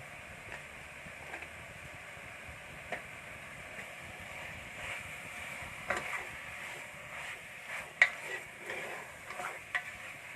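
Beef masala mixture with turmeric being stirred in a hot pan, a steady soft sizzle broken by scattered scraping clicks of the spoon, close and continuous, with no voices.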